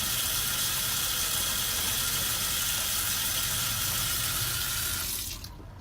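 Water runs steadily from a camper faucet in a continuous loud hiss, then drops off abruptly near the end as the flow is shut off.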